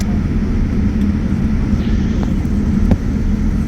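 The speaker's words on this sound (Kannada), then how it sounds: "ಫ್ಲೈಟ್ ಲ್ಯಾಂಡ್ ಅಪ್ಪಕ್ಕೆ ಬರ್ತಿತ್ತು ಕಾಣ್ತಿತ್ತಾ ಇಲ್ಲಿ" An airliner coming in to land on a runway beside Boston Harbor makes a loud, steady, deep engine rumble that holds unbroken throughout, with no talking.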